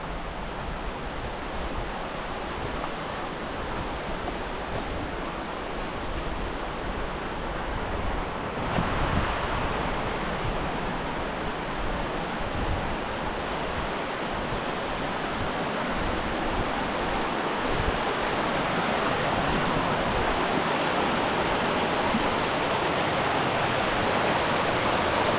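River rushing through Ferguson Canyon, heard from close by as a steady, full broadband roar that grows slightly louder partway through, with no voices.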